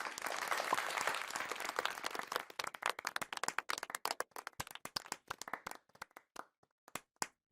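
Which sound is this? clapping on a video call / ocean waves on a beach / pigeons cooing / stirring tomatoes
clapping on a video call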